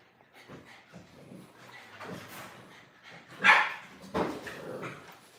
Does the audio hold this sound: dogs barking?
yes